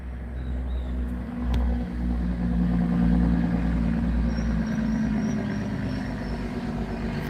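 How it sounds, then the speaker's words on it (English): A truck slows on its Jake brake, an engine brake, producing a steady, loud, rumbling mechanical drone with a throbbing low pulse that holds for several seconds, heard outdoors without talk. "See, they're using their Jake brake."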